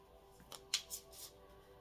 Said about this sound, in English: So I'm just doing a light shuffle here.